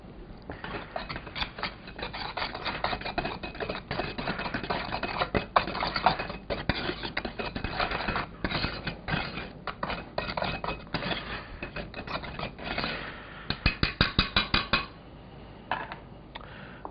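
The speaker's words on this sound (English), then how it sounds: "We're going to whisk those in" A whisk beats egg whites in a bowl with rapid, steady metallic clicking and scraping that runs close and continuously, briefly pausing and quickening near the end.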